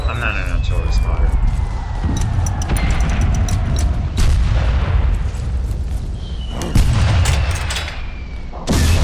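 Artillery fire in Valiant Hearts: The Great War, several heavy booms and blasts landing at intervals, with a whistling shell sweep and scattered gunshots, loud against a rumbling battlefield backdrop while someone talks.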